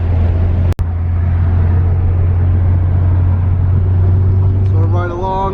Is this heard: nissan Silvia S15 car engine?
yes